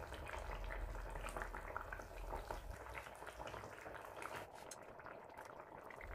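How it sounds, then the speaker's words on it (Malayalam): A pot of fish curry with drumsticks bubbles on the stove, a faint, continuous simmering burble with small liquid pops throughout. "ഇവിടെ കറി നന്നായിട്ട് തിളച്ചിട്ടുണ്ട്."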